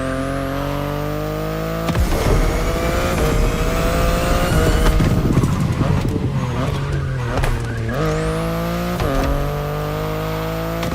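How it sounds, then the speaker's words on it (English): A BMW i8 hybrid sports car drives in The Crew Motorfest racing game, its engine droning loud and steady, rising and falling through gear shifts, with tire squeals around the middle. "the compact i3 and the i8, the sports car you're driving."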